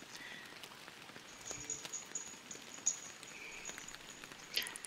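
Rain patters softly and steadily in the Fishing Planet video game at Saint-Croix, Michigan, a faint, dense hiss of drops with a few slightly louder taps scattered through.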